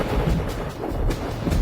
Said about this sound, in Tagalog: Kumukulog. Kailangan na nating bilisan ang pag-shoot, mukhang uulan na.